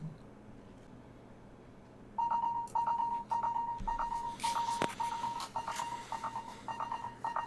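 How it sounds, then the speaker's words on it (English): A phone rings with an incoming call during a tabletop game session, a steady pattern of short repeated electronic beeps starting after a quiet stretch and continuing close and clear. "Why is Harvey calling me"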